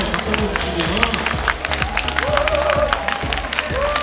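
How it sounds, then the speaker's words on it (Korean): Applause from an audience at a fan meetup, a steady patter of many hands clapping under a voice talking over it throughout. "여기 박수 열심히 좀 주시고 예"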